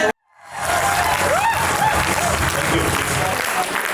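A hall audience breaks into loud, sustained applause welcoming a speaker at a resort event, the clapping rising quickly after a brief silence and holding steady throughout, with some voices mixed in.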